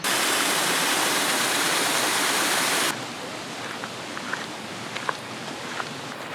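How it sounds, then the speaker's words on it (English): Flowing water at the koi pond in Maymont Park: a loud, dense rush for the first three seconds, then a softer, steady trickle with a few faint splashes. "So here's the koi pond."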